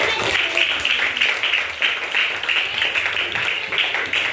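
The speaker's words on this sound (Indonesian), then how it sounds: "Kasih tepuk tangan untuk sama si Desi." A classroom of pupils applauds in a primary school lesson, with dense, steady clapping that continues throughout and mixes with faint voices.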